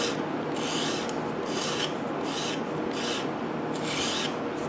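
Rhythmic rasping strokes of a file on wood, about five back-and-forth passes, close and steady with no talking.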